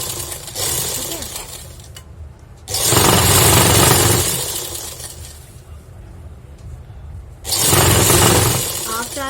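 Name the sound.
sewing machine stitching a skirt strip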